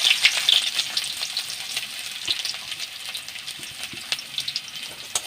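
Dried red chillies and chopped onion fry in a hot pan with a loud, continuous hissing sizzle, dense crackling spitting throughout, and no voices.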